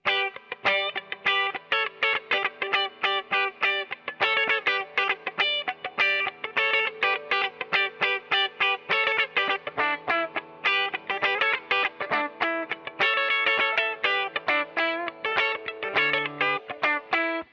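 A Gibson Custom Shop 1959 ES-335 VOS electric guitar on its bridge pickup, played with a bright, clean tone, a quick run of picked notes and chords ringing out steadily with no talking.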